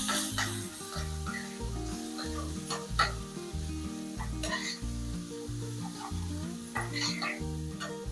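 Salt and chili powder being stirred into a frying curry of country eggs, raw prawns and drumsticks: a spoon scrapes the pan in a steady repeating rhythm over a constant soft sizzle, close and fairly quiet, with no talking.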